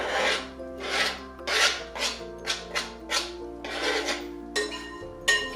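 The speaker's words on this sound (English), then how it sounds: "I think I'm going to do the zest first." A lemon is zested on a grater for a lemon Bakewell tart, giving about ten short rasping scrapes in an uneven rhythm, close and moderately loud with no speech.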